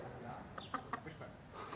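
A hen clucks in short, soft bursts at close range against steady background noise outdoors, with a small dog running after it.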